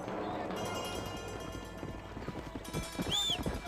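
Horse hooves clip-clop at a quick galloping pace in Red Dead Redemption, close and steady over a busy background of game ambience, with a brief whinny near the end and voices talking over it.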